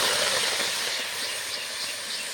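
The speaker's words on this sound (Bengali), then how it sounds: "আমি এখন ছোলাটা আর আলুটা সিদ্ধ করে নেব কড়াইতে" Black chickpeas and potatoes cooking in a hot wok, with a loud steady steamy hiss that fades slightly over the short stretch.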